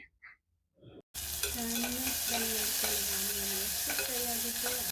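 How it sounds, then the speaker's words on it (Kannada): Onions hit hot oil after a brief quiet spell, setting off a loud, continuous close sizzle with rhythmic stirring scrapes of a spatula across the pan. "ಆಮೇಲೆ ಈರುಳ್ಳಿನ ಹಾಕಿಬಿಟ್ಟು ಚೆನ್ನಾಗಿ ಫ್ರೈ ಮಾಡ್ಕೊಳ್ಳಿ."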